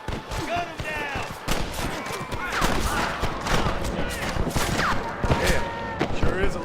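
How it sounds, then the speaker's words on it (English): Dense, continuous gunfire rattles in Red Dead Redemption on Xbox One X, with rapid overlapping shots, ricochet whines and shouting voices mixed into the chaotic firefight. "Rush the guard! Gun them down!"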